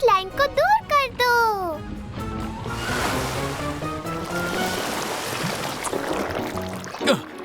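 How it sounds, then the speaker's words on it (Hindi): Cartoon water being thrown in an animated children's show, a rushing, splashing wash following brief chirpy character voices, steady and close for several seconds with a small burst near the end. "मॉर्फल, पानी फेंक के इस लाइन को दूर कर दो।"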